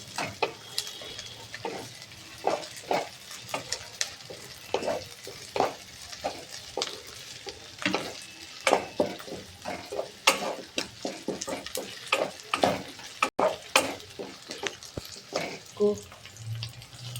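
Onion fries in a pan with crushed ginger and garlic while a spoon stirs it, giving soft sizzling under a run of scraping strokes and clinks, fairly close and moderately quiet, with no talk.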